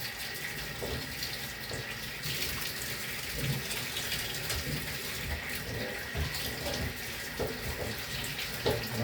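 Tap water runs steadily into a bath while a child is rinsed at bath time, a continuous hiss with faint splashes and no voices.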